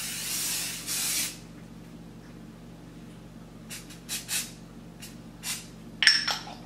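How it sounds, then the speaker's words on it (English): Spray foundation misted onto a face in two short hissing bursts close to the mic, followed by soft taps and a light clink as the bottle is handled. "let's go for spray number 2"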